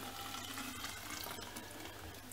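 E10 petrol and dyed water poured into a container, a steady continuous splashing stream like a running tap, close and even throughout with no talking.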